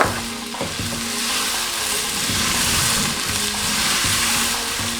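Onions sizzle and fry loudly in hot cooking oil for a Pakistani-style chicken and chickpea curry, a steady dense crackle with occasional stirring knocks, no talking.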